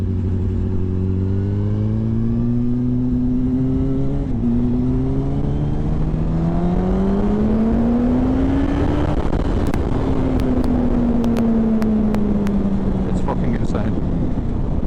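A Yamaha YZF-R1 motorcycle engine revs under throttle, its pitch climbing and falling in long sweeps, loud and close, with sharp clicks and ticks late in the sequence.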